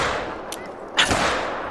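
A shotgun fires in the hunting video game theHunter: Call of the Wild during an African buffalo hunt: a single sharp blast over a steady wash of outdoor noise, with a fainter crack just before it.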